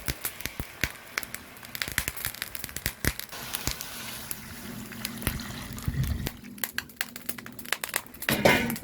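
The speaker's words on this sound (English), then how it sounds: "So we're going to add some more water to that now." Water is added to a pot of salted pig tail for red peas soup, sizzling and crackling with sharp pops and splashes, steady and close throughout.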